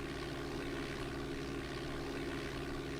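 A Boeing 737 flies in the game Flight Simulator 4, a faint, steady engine drone with a low, even hum and no breaks.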